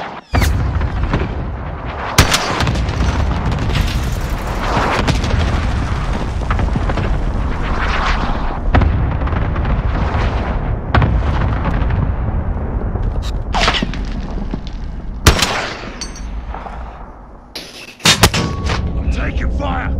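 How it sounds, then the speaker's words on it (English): Cluster strike explosions and artillery fire in a shooter video game, a dense run of loud booms and sharp blasts over a constant rumble, with several big transient hits standing out near the end and game voices mixed in. "Enemy cluster strike incoming."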